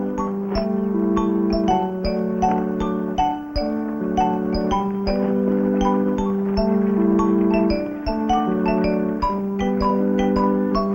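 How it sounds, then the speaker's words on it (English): Church bells ring for the Angelus in a small Western town, a busy run of overlapping metallic strikes and ringing tones that keeps going without pause, moderately loud. "Come on, Danny, you can help ring the bells."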